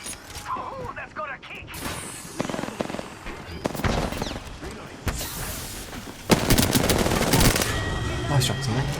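Rapid automatic gunfire and single shots in the PS4 shooter Apex Legends rattle in dense bursts and grow louder toward the end, mixed with game effects.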